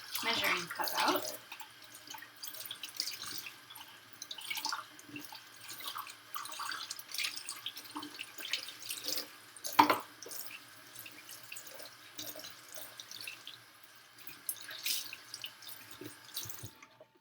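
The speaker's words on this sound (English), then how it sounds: "I'm gonna go ahead and rinse my measuring cup out." A measuring cup gets rinsed under a kitchen tap, running water splashing and trickling irregularly for a long stretch at low level, with brief clatters of the cup and a few voices faintly in the background.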